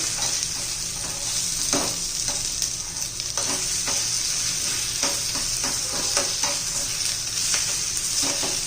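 Semolina breakfast mix stirred and frying in a small tadka pan, a close steady sizzle broken by repeated scraping stirs of a spoon against the metal, with no talk.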